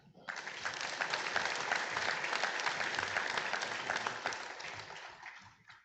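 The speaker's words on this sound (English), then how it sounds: "We have a big round of applause for all our wonderful LINC graduates this morning." Audience applause at the LINC graduation ceremony, a sustained round of many hands clapping in a hall, rising quickly, holding steady, then tapering off near the end.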